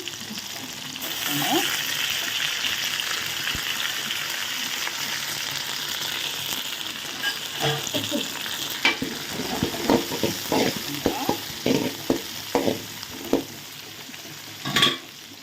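Small onions and curry leaves fry in a pan with a steady close sizzle, then a series of sharp stirring scrapes and clatters punctuate the second half.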